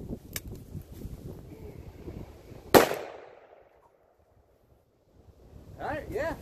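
One loud, sharp crack from a .500 Magnum revolver with a fast-decaying ring, set between stretches of outdoor noise and muffled voices.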